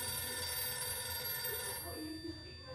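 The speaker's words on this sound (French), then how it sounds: "le téléphone sonne." In a film scene set during a snowy winter as a family prepares for Hanukkah, a telephone rings faintly and steadily beneath a muffled room hum, with no one talking over it.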